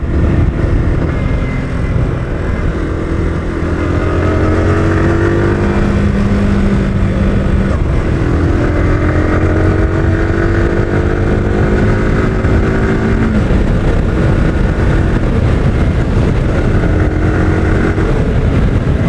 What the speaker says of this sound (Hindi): अभी चलाने के टाइम पे पता चलता है कि एग्जॉस्ट का साउंड है वो चेंज हुआ है।